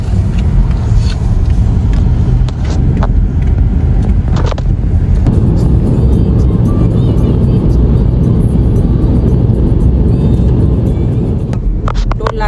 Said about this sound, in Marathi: त्यामुळे मग थोडी मी चालवणार आहे, थोडी मनोज चालवणार आहे गाडी.